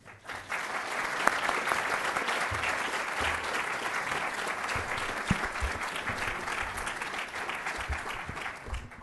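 An audience applauds a guest speaker at a lecture on political economy, producing sustained, dense clapping from many hands that starts abruptly and stays steady and fairly loud throughout, with no clear talking.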